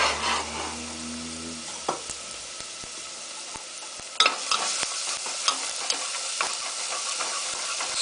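Garlic frying in oil over medium-high heat, a soft steady sizzle with a utensil stirring and tapping against the pan in scattered clicks, close and otherwise quiet.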